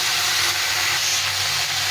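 Ridge gourd frying in a pan gives a loud, steady, broad hiss and sizzle that carries on unbroken from start to end, heard alone without any voices.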